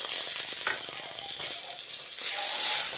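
Chopped tomato frying with onions, ginger and garlic in a pan, a continuous moderate sizzle with occasional scraping stirs, growing slightly louder toward the end.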